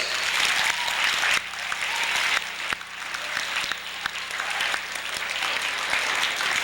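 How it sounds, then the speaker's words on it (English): Students at a Uniondale career day clap their hands for themselves, a dense, steady applause that holds for several seconds, with a few sharper claps standing out near the front. "So everybody clap their hands for themselves."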